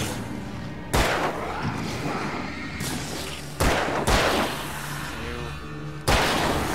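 Gunshots ring out in the Alan Wake video game, three sharp, loud reports spaced a couple of seconds apart, each with a booming echoing tail over a steady rumbling game soundscape.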